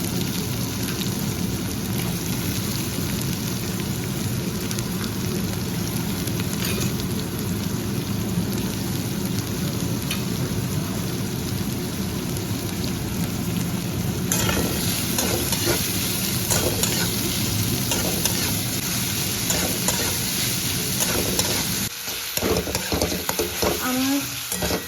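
Onions fry in hot oil with whole spices such as dried red chillies, cumin seeds, cardamom, cloves and cinnamon, giving a loud, dense, continuous sizzle with crackling and stirring that grows busier near the end.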